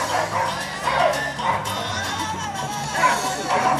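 A puppy at a dog show expo yips and whimpers with short barks, close by over a busy hall background.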